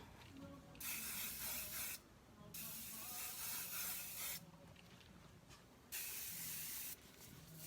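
An aerosol can of dry wax mists onto hair in three close, loud hissing bursts, each lasting about one to two seconds, with short quiet pauses between them.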